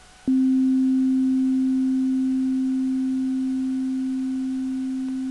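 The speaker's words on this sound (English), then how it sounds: "you're going to hear that the sound is going to rise, and then it's going to drop down over time." A steady synthesizer sine tone starts with a click and holds a single pitch, slowly losing volume under its decay envelope over about five seconds, with no voice present.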